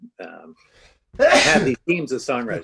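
A sharp, loud sneeze bursts out in the middle of a songwriting podcast conversation, with speech just before and after it.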